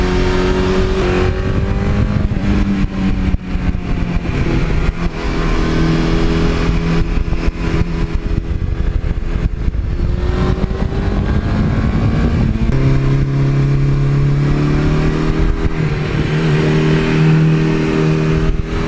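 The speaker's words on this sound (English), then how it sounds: "that 86 exhaust has just a little more rumble in stock when you back off the gas" A 1982 Suzuki GS1100E motorcycle engine revs repeatedly, rising and falling in pitch with a throaty exhaust rumble as the throttle opens and backs off, loud and close.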